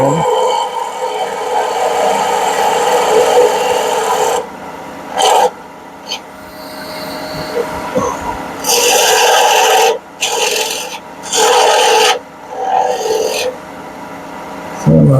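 A wooden pepper grinder is tapered on a woodturning lathe. The tool scrapes and rasps against the spinning wood in loud, steady stretches that cut off repeatedly, leaving short gaps of quieter motor hum.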